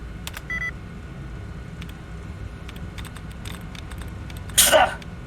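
A single short, sharp sneeze bursts out close and loud near the end, after a few faint clicks and beeps over a quiet low hum.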